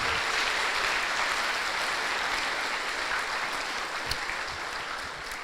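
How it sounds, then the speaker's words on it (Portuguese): A church congregation at a Sunday service applauds, a steady, dense wash of clapping that slowly softens toward the end, with a few sharper claps standing out. "Dê um forte aplauso ao Senhor Jesus."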